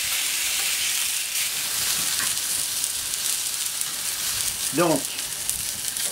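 Spring chickens on the bone sizzle on a hot plancha, a steady close frying hiss throughout, with someone briefly speaking near the end.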